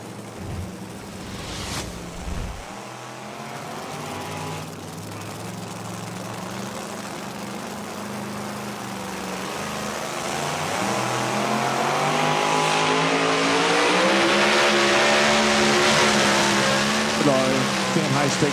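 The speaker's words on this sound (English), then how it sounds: "Evan Anderson playing dirty, Adams, Tennessee, on our super modified two-wheel drive trucks." Super modified two-wheel drive pulling truck engine at a Fendt High Stakes Series night pull, loud sustained roar building and revving harder through a long run, with an announcer talking over it and crowd noise around.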